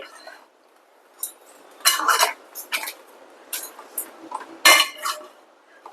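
Small crabs being stirred with chili powder and garam masala in a metal pan on a home stove, giving repeated scraping clinks of a spoon against the pan in uneven bursts, close and fairly loud.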